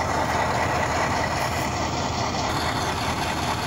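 Athearn Genesis GP-7 model diesel locomotive with Tsunami 2 DCC sound revving up, a steady droning engine rumble held at a constant level, close and fairly loud.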